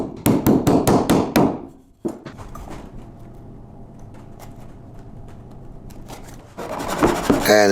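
Nails driven into wood, a quick run of about six sharp, loud hammer blows, then a long stretch of quiet scraping and rubbing before a rougher burst of rasping at the end.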